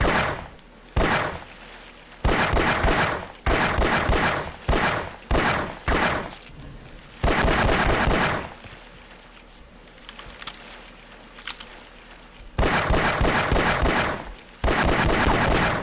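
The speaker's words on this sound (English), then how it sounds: "Oh, alt fire fires a bit faster if you hold it down." Pistol alt fire in Half-Life: Opposing Force, loud rapid bursts of gunshots in several clusters separated by short pauses, close and dominant, with no talking.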